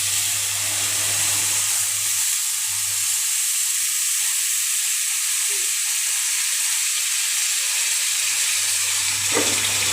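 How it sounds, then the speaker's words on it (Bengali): Fish head curry (muri ghonto with rohu and katla heads) fried in a little oil hisses steadily in the pan after water goes in, a close, even broadband sizzle lasting throughout with no voices. "জল দিয়ে দেবো।"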